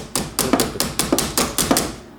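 Hammer blows on a Toyota RAV4 battery terminal or fitting during a battery replacement, about nine sharp, close, evenly spaced taps in a steady rhythm.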